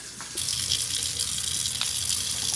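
Shower water runs in a steady loud hiss that starts abruptly and then continues evenly without a break.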